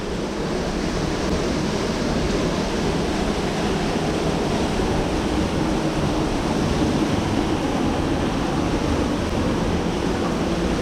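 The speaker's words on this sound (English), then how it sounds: "And here's the waterfall over there." Waterfall near a rock house shelter on the Rock Creek Loop Trail in Big South Fork, a continuous broadband roar of falling water heard steadily at a moderate distance, with no voices.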